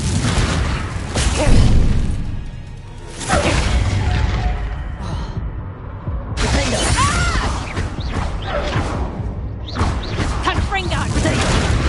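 Confringo blasting spells explode repeatedly in the Hogwarts Legacy video game, with loud crashing bursts and shattering debris in a busy combat mix, while voices speak over the action.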